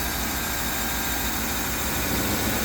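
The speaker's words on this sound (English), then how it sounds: "So you'll be able to hop into the car, start your engine." A 2007-14 GM truck engine runs after a jump start, producing a loud, close, steady rumble with broad noisy roar throughout.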